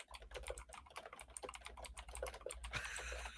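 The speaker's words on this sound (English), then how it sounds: "Just hear the clickety clack of our computers." Rapid, uneven clicking of several computer keyboards being typed on at once, a dense busy clatter with no voices over it.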